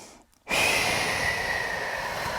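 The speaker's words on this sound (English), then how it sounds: "Let's take a couple breaths here." Deep breathing in a beginner yoga forward fold: a short quiet pause, then a long, loud, breathy exhale close to the microphone that lasts a couple of seconds without any speech.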